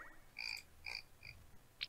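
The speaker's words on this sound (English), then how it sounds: "I heard a frog." A frog croaks several times in short, evenly spaced chirping calls, faint and somewhat distant over a quiet background with no talking.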